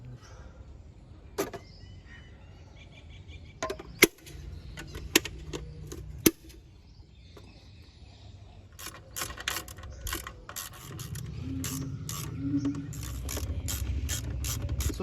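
Ratchet tightening air intake hose fittings on a 1999 Maruti Zen, quiet clicking pawl strokes with a few sharp clacks, then a denser run of ratcheting over a low rumble toward the end.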